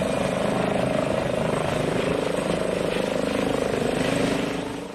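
An Airbus H145 helicopter's steady rotor thrum and engine whine, loud and continuous throughout, easing off slightly at the very end.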